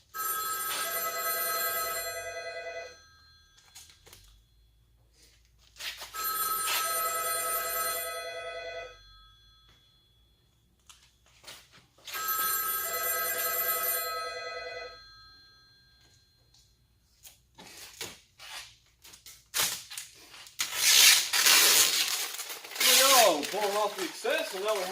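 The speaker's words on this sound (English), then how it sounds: "Sorry about phone, guys." A phone rings during work on a Ford truck grille: three long electronic ringing bursts, each a few seconds long and separated by pauses, followed by clattering handling noises and someone talking.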